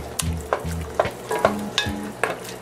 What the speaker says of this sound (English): We'll stir this around a little bit.